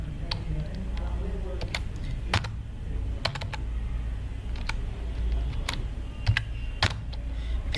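Typing C program code for a Celsius-to-Fahrenheit conversion on a computer keyboard: scattered, fairly faint keystroke clicks in irregular bursts over a low steady hum.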